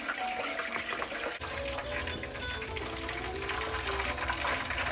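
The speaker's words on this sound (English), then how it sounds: "fry it just a little bit, right? I'm gonna put it in there." A pork chop sizzles in a hot pan, a dense continuous crackle and hiss that steps up sharply as the meat goes in, then holds steady and close throughout.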